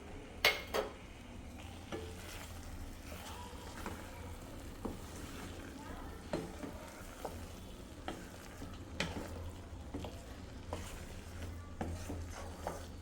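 Fried eggs being stirred into a frying masala for tomato and egg curry, with a steady low sizzle and scattered scraping clinks of a spatula against the pan throughout.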